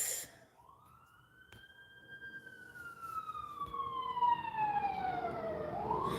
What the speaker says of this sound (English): I know that fire trucks and stuff got to be loud, but damn.